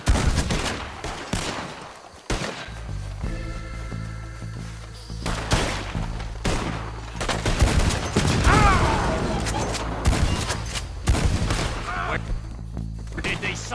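Gunfire crackles through a shootout in the video game Red Dead Redemption 2: dense volleys of rifle and pistol shots, some booming near and others farther off, with game characters shouting over the fighting.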